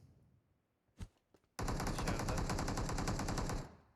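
Sustained automatic gunfire in PUBG Mobile, a loud, rapid burst lasting about two seconds, preceded by two short isolated shots; no talking.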